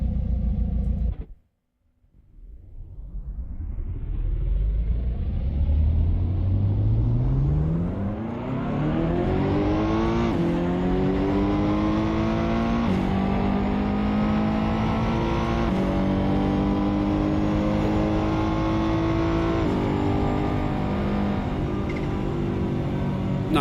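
Ferrari engine in the Assetto Corsa racing game starts with a brief cut, then revs up steadily through rising gears with sharp shift breaks, staying loud, close and continuous with no talk.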